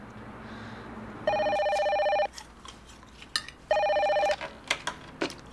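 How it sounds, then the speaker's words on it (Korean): A telephone rings in a home in two bursts, each a loud, steady electronic trill about a second long with a pause between, while light clinks and small knocks sound in the room. "희경아, 전화 받아."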